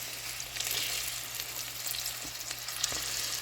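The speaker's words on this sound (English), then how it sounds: "Meatballs are starting to cook up" Meatballs fry in a pan with a steady, close hiss of sizzling oil, dotted with small pops and crackles and no talking.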